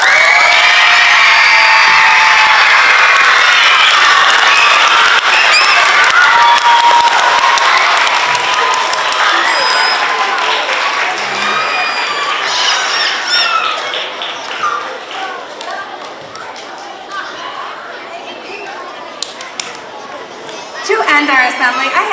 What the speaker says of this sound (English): I want to hear you so loud. Clap for them.